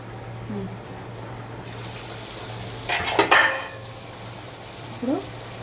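Curry being stirred in a cooking pot after tomatoes go in, a short burst of metal scraping and clinking from a spoon against the pot amid quiet room noise, with a faint second clink later.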